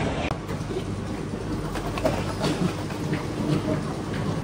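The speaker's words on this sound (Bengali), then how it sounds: "এই যে স্কাই ট্রেন চলে এসেছে" Skytrain at Singapore airport rolling along, a steady low rumble with faint rail clatter filling the terminal space, no voices.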